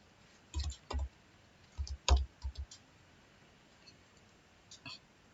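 Keys on a computer keyboard are pressed during Word typing, giving a few quiet, close clicks in short bursts with pauses between them, over a faint hiss and no clear talk.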